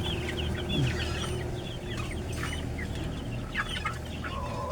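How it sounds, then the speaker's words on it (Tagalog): Broiler chickens around 45 days old cluck steadily in a crowded coop, a continuous flock chatter with overlapping calls at close range, no voices over it. "Ito na ang ating mga alagang manok. Masikip na sa ating kulungan."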